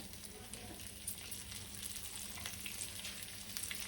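Cumin seeds and stuffed bitter gourds frying in hot oil in a home kitchen, a soft continuous sizzle and crackle heard close but faint, with no talking.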